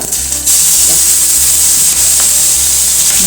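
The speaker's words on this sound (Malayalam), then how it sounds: "കുറച്ച് കടുക് ഇട്ട് പൊട്ടിക്കാം." Mustard seeds hit hot coconut oil and sizzle with a loud, close, steady hiss, broken by a few faint crackling pops throughout.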